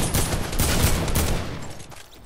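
Rapid gunfire crackles in a video game battle, a dense fusillade of close, loud shots that fires continuously before tapering off and fading near the end.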